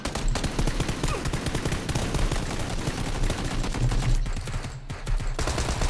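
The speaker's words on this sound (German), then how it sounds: "Das meine ich halt, ich schieße ohne Ende." Rapid gunfire in the video game PUBG, dense continuous bursts of shots filling the whole stretch, loud and close with only brief gaps.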